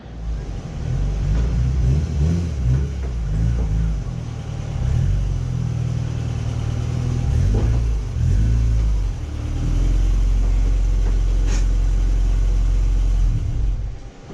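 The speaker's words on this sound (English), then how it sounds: "I'm going to be pulling in the CRX now" A Honda CRX, a teal one, is driven in up close, its engine rumbling steadily and loudly the whole time, with a few revs rising and falling and no one speaking.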